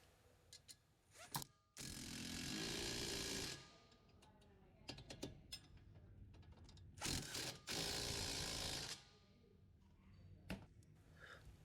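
A wrench and impact tool tighten 22 mm strut nuts during a passenger-side strut install, with two sustained bursts of impact rattling between sharp ratcheting clicks and metallic taps, fairly quiet overall.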